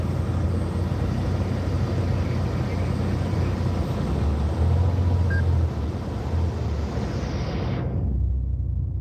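Dense, steady traffic rumble with motorcycles packed in a jammed street beside an open canal, a continuous broadband engine drone throughout that cuts off abruptly near the end.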